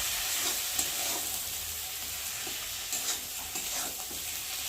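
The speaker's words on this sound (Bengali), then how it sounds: "দিয়ে একটু সবজির সাথে ভালো করে মশলাটা একটু নাড়াচাড়া করে নেবো" Okra stirred with salt and spices in a pan, producing a soft continuous sizzle with intermittent scraping strokes of the spoon, fairly quiet and close, no voices.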